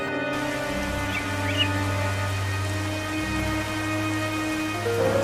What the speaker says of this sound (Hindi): अरे ये तो बारिश शुरू हो गई।